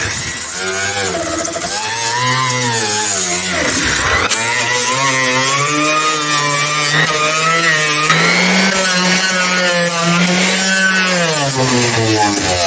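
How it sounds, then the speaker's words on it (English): The beveled wooden edges of a ramp launcher are sanded with a loud, steady power sander whose motor drone shifts in pitch as it works along the wood, close and continuous. "So now we can sand these edges a little bit."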